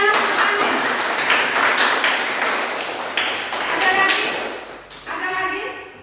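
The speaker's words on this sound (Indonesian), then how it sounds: "Tepuk tangan semuanya." A class of students claps together at the end of a classroom lesson, a burst of many hands that thins out, overlapped by voices talking.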